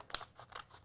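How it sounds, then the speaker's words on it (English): Scissors cutting off excess material while crafting with a Cricut setup, two or three quiet, close snips within a second. "So let's cut off this excess."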